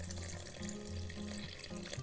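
Water is poured into a dough mixture made with tsipouro for crisp pastry sheets, a steady running pour heard close and alone against a continuous low background hum.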